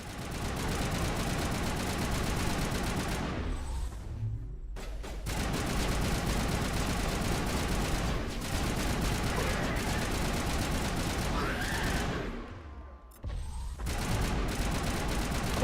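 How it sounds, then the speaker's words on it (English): Sustained dense gunfire from Mass Effect: Legendary Edition, loud bursts of automatic shots running almost continuously with two brief pauses, game sound mixed with faint background noise. "Don't know if the gunfire is really overpowering or what."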